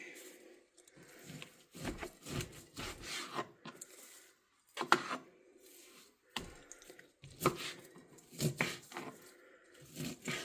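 Knife chopping and scraping through fatty meat, likely on a board: a run of short, uneven rasping cuts and rubs in clusters with brief pauses between them, close and fairly quiet with no talking.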